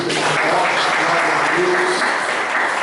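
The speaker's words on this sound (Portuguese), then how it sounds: "Dá uma salva de palmas para Jesus." Church congregation applauding for Jesus, a steady dense wash of many hands clapping at close range, holding level for about three seconds with faint voices mixed in.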